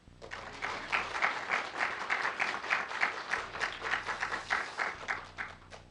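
A church congregation at a Wednesday service bursts into steady, dense applause, many hands clapping together close by for several seconds before it fades slightly at the end.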